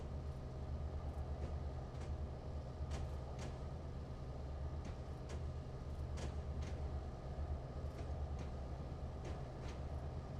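Train running through the Feather River Canyon in a train simulator game, a steady low rumble and rolling drone held throughout with faint periodic clicks of wheels over rail joints.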